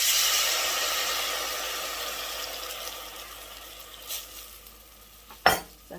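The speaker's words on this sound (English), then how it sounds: "And to this, we're going to add some wine." Wine poured over sizzling garlic in a pan brings a loud hiss that slowly fades into a softer simmering crackle, followed by a couple of sharp clinks and scrapes near the end, close by and without speech.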